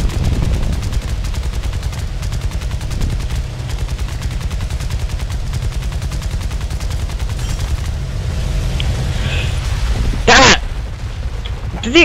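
War Thunder aerial combat brings rapid bursts of machine-gun fire over a constant engine drone, with a sharp explosion near the end, while a player talks throughout.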